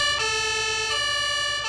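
In Farming Simulator 22, an emergency vehicle's siren wails loud and close in repeating cycles of about three-quarters of a second over a low engine rumble.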